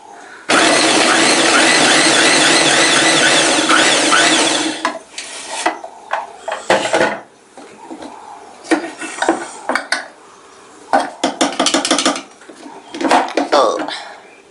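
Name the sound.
chopping onions in a food chopper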